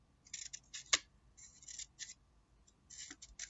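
Scissors snip quickly and repeatedly through paper strips, cutting a fringe into craft paper for hedgehog spikes. The crisp, close cuts come in short bursts separated by brief pauses.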